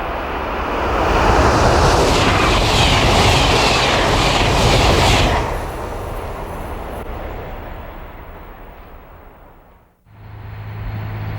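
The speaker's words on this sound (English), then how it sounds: "As night falls, the trains continue to roar up and down the Northeast Corridor." A train roars loudly along the Northeast Corridor at night, a broad rushing rumble that holds steady for several seconds, then recedes into a fainter distant hum before a brief low engine drone returns near the end.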